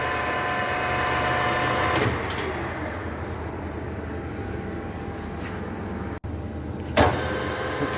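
A Colchester Triumph 2000 centre lathe running at 620 RPM, a steady mechanical whir and hum with a few brief clunks and a short dropout as the speed changes.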